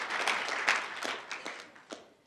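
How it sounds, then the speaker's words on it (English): Brief scattered audience applause welcoming a lecture speaker, a few loose claps rising and tapering off quickly in a hall. "Let's give a round of applause."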